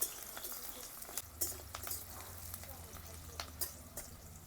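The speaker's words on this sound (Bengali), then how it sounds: "পেঁয়াজটা একটু ভাজা ভাজা হয়ে গেলে তারপরে আলু দিয়ে দেব।" Onions fry in a pan of mustard oil with a soft, continuous sizzle, broken by sharp crackles and the scrape and clink of a utensil as they are stirred.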